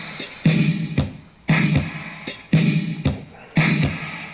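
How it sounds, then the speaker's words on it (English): Micus Bluetooth mini-jack receiver giving its low-battery warning, a repeating electronic alert in four evenly spaced bursts about one second apart, loud and close with no talking. "that's the sound that the battery is low on the Micus Bluetooth"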